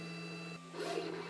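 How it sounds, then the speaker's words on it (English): A fast 3D printer prints a benchy, giving a steady mechanical whir with high whining tones and a constant low hum, which turns rougher and busier in the second half. "allegedly the fastest printer on the market. Let's see how fast it can do a benchy."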